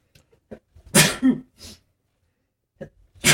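A person sneezes sharply and loudly, with a short intake and a couple of smaller follow-up bursts, then another sneeze begins at the end, close to the microphone in an otherwise quiet room.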